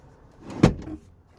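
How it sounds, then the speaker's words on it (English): A short mechanical slide and thunk as a captain's chair seat in a 2021.5 VW Atlas SEL R-Line is pushed back on its track, close by and brief, with a quiet interior hush around it. "so I'm going to slide this seat back."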